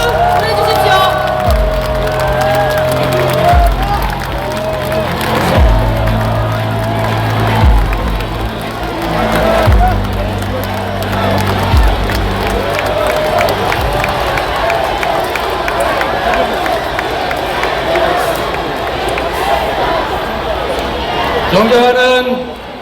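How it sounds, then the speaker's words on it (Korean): A large outdoor rally crowd cheers and applauds to welcome Democratic Party leader Lee Jae-myung onto the stage, with a loud, continuous roar, whoops and clapping. An announcer speaks over it through a PA system. "환영의 박수 보내주십시오"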